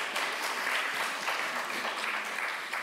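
Audience applause at a conference session on associations' positions regarding vaping, a continuous soft wash of many hands clapping at a distance, fairly quiet, with no speech over it.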